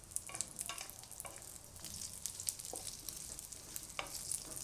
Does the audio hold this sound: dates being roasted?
yes